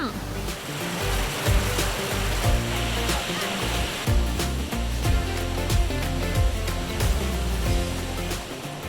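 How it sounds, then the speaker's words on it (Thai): Waterfall on a forest stream in the Mae Ning Nai community, Mae Chaem, Chiang Mai: loud, steady rushing and splashing water fills the whole stretch without letup, heard up close. "ที่นี่นะคะก็เป็นน้ำตกที่อยู่ในชุมชนแม่นิงในเนาะ"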